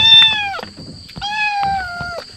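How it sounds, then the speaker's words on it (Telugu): A jungle cat on a tiger safari lets out two loud, close, drawn-out meows, one after another, with faint background rustle. "जंगली कैट है"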